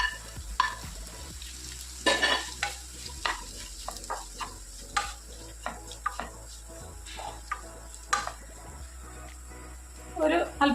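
Cabbage, carrot and chopped green chili stir-frying in a pan for a home-style thoran, with repeated scraping stirs and soft sizzling, while a person talks over it in places.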